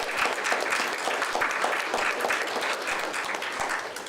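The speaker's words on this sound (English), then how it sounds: "We can thank them now with a round of applause." Steady applause from an audience at a United Way volunteer recognition breakfast, an even wash of clapping hands heard at moderate distance for the whole stretch.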